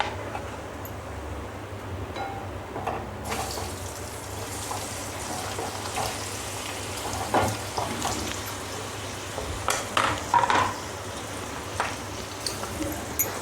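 Potatoes dropped into a hot pan for a dry Maharashtrian batata bhaji, with a broad steady sizzle and watery hiss rising after a few seconds, a handful of soft clatters and stirring bumps near the end.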